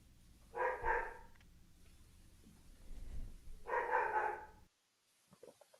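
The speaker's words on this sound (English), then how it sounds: "I hear your dog in the background." A dog barks in the background, faint and somewhat distant: two short bursts of barking separated by a few seconds of quiet room noise.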